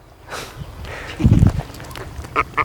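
A few short quacks from laying sea ducks ring out near the end, after a burst of splashing and shuffling in a seawater pond, with faint background noise throughout.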